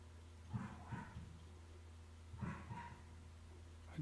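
Dog barking from inside a house at someone walking past outside, two short bursts of moderately loud barks at a middle distance over a steady low hum.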